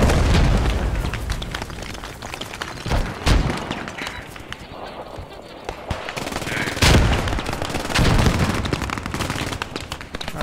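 Gunfire into a building in Post Scriptum, a World War II game on Utah Beach: loud bursts of machine-gun and rifle shots with heavy booming impacts, rising and falling over continuous battle noise.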